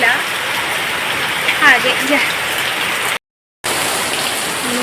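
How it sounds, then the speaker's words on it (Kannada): Heavy rain pours steadily onto surfaces nearby, a dense continuous hiss with scattered drip detail, broken once by a short dropout; a voice speaks briefly over it. "ನೋಡಿ ಮತ್ತೆ ಮಳೆ ಶುರುವಾಯಿತು"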